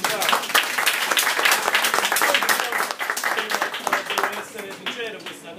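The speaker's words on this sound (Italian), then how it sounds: "Applausi." Sustained audience applause at a talk in Sorrento, dense and steady clapping from a crowd that holds strong throughout before easing slightly near the end.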